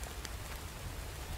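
Steady rain pattering in the survival game The Infected, a soft continuous hiss of drops on surfaces with no voices over it.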